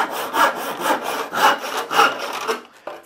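A hand saw cuts wood for a simple stool made with hand tools: about six rhythmic back-and-forth rasping strokes, close and loud, with no talk, ending in a short pause and a light knock.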